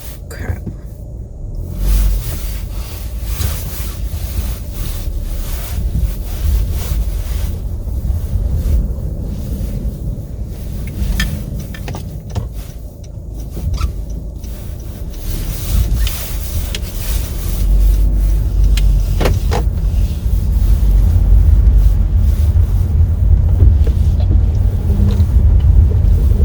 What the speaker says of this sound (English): First time driving in the snow.